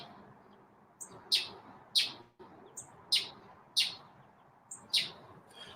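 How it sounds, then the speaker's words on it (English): Chirpy, a pet bird, gives a series of about seven sharp, high chirps at uneven intervals over a faint background hiss, each note close and clear with short pauses between. "It's funny when Chirpy chirps, his butt wiggles."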